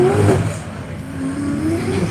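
The Goodyear Camaro race car accelerates away at Nelson Ledges during the One Lap of America event, its engine revving up in a brief, loud, close surge with a rising tone.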